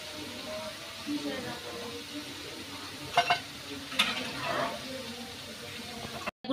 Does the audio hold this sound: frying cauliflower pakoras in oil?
yes